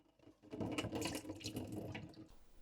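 Water runs from a tap onto leather being moistened for shaping, a soft continuous splashing stream that starts after a brief pause and carries on steadily, close but quiet.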